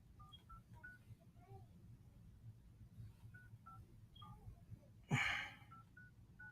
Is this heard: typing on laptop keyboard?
no